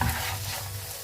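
Mutton kharda is stirred and fried in a pan, a short, steady sizzle with a spoon scraping through it, close and moderately loud, with no voices.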